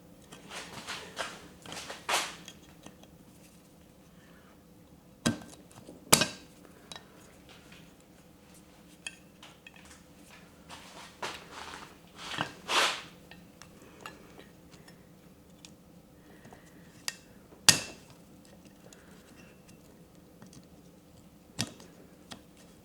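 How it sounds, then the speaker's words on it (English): Metal snap rings clicking into place with pliers while refitting pressed-in wheel bearings: scattered sharp ticks and clinks spread across a quiet background, some louder and close, with no talking. "I'm gonna throw these snap rings back in using my favorite pliers."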